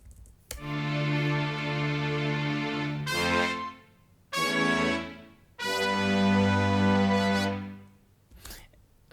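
A produced intro track with a horn section plays three long, loud, sustained brassy chords separated by short gaps, each swelling and then cutting off, with no talking.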